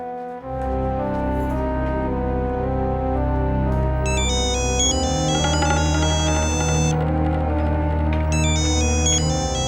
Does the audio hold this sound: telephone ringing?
yes